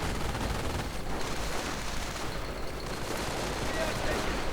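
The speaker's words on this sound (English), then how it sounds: "slowed down by a suppressive volley from the Gewehr 43" Gewehr 43 rifle volleys crackle in a video game battle, a dense, continuous spread of overlapping shots heard as a rough, loud wash, with a narrator talking over the gunfire.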